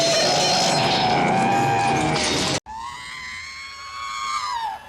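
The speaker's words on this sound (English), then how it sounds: "anytime a Slayer dies, it kind of sounds like R2 screaming" A creature's shrill, warbling death scream in the 1983 fantasy film Krull, resembling a robot's electronic squeal: a loud, harmonic wail that breaks off abruptly, then resumes as a second, steadier electronic cry.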